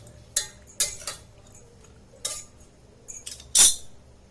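Spoon stirring dal with turmeric and oil in a metal pot or pressure cooker, for village-style Maharashtrian dal vangi, gives a run of light metallic clinks and scrapes at uneven intervals, close and fairly soft, with no talking.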